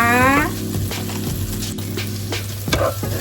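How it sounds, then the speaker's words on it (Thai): Chili peppers stir-fry in a hot pan for a Thai pork pepper dish, giving a constant close sizzle with occasional scraping stirs. A voice briefly speaks at the start. "เดี๋ยวขอผัดพริกให้หอมนะคะ"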